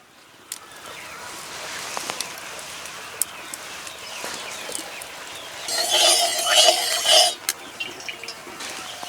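White oil goes into a hot wok on a lit stove, giving a short burst of hissing sizzle midway, surrounded by quieter kitchen background and occasional small clinks.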